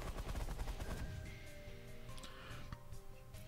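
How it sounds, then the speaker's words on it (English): A minigun in the space game The Last Federation rattles off rapid bursts, a dense stutter of shots that thins into scattered pops with electronic tones ringing over them. "I'll fire minigun at just everything"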